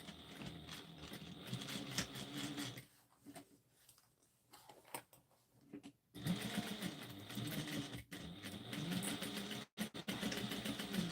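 Sewing machine stitching a fabric seam for a Halloween trick-or-treat basket, running in steady rapid bursts with pauses and short reversals as the stitching is backstitched, fairly close.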